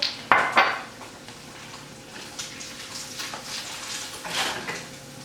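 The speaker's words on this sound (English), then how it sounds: "You gotta stir it until it's smooth." A utensil stirs red velvet cake batter in a small Easy-Bake Oven bowl, making repeated scraping and clinking against the dish, close up and moderately loud, with a sharp knock near the start.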